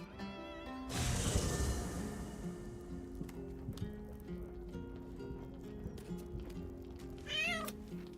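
A cat meows in the video game Baldur's Gate 3, one loud drawn-out meow near the start, then quieter ambient game sounds and a brief chirpy call near the end, with no speech.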